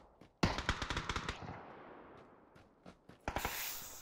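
Rapid bursts of KAR sniper and automatic gunfire in a PUBG match, a loud string of close shots at first, then scattered fainter reports and a final sharp burst.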